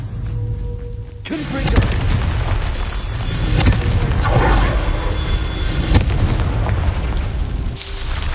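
Confringo and Bombarda explosion spells in the Hogwarts Legacy video game, a series of heavy booming blasts with sharp cracks and rumbling debris, loud and dense, following a quieter start with no talk.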